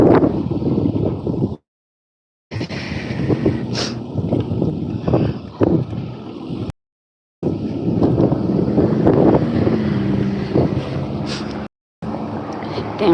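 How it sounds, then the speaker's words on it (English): Gusty wind buffets the microphone outdoors on a blustery day, a loud low rumble broken by two short dropouts, with a person talking faintly underneath. "Damn, it's windy out there"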